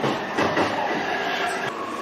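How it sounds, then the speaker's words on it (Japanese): A Japanese train departs a station and rumbles steadily along the rails, a broad continuous roar with faint rhythmic wheel noise, fairly close and loud. "列車は砦駅を発車。"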